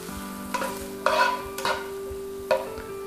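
Cold butter stirred into a hot pan sauce for Tex-Mex fish as the pan comes off the heat, with soft close sizzling and a few brief scraping strokes over a steady hum.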